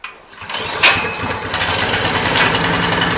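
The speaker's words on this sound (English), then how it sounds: "So I'm just going to pull this pull cord a couple of times, and hopefully the auger doesn't engage." A Briggs & Stratton 1022E 22-inch single-stage snow blower engine is pulled over by its recoil cord and fires, catching into a loud, close, rapidly pulsing run that continues steadily to the end.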